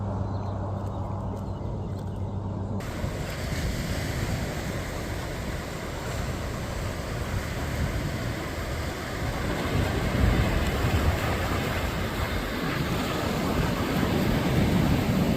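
Ocean surf rolls onto a Florida National Seashore beach with wind, a broad continuous roar that swells louder toward the end, no voices present.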